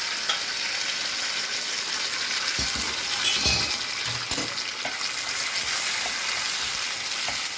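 Steady sizzling from a hot pan of boiled raw mango for chutney, with intermittent scraping and clinks of a utensil stirring, continuous and fairly close.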